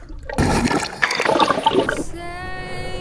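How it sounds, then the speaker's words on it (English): Arctic sea water off Norway splashes and gurgles for about a second and a half, then gives way to a steady, tonal hum that rings on to the end. "This is the Arctic water of Norway."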